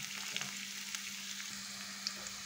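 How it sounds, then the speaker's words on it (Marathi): Onion frying in a pan until reddish, a soft steady sizzle holding evenly throughout with a few faint clicks of stirring and a low steady hum beneath. "1-2 मिनिटात चांगला कांदा आपला लालसर होईपर्यंत परतून घ्यायचा।"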